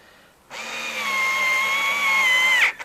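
A power tool driving in the air filter housing bolts on an Alfa Romeo MiTo 1.3 JTD Multijet diesel, one steady high-pitched whirring run of about two seconds, close and loud, ending with a brief squeal.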